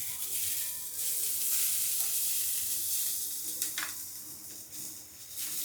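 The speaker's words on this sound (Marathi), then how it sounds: "आणि कांदा भाजायला टाकते." Chopped onion frying in a pan gives a steady, soft sizzling hiss with a few faint stirring scrapes, heard close up and fairly quiet, with no talking.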